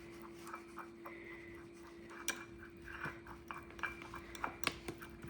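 Sourdough starter being stirred into a dough in a bowl, with faint, irregular scraping and clinking of a utensil against the bowl, quiet and close.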